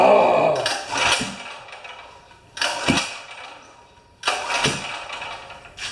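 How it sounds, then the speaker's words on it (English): A Champion portable generator is pull-started with the choke open, three loud rope pulls each setting off a short sputtering engine burst that dies away again, close by and with no talking. "let's just open the choke up and pull it a few times"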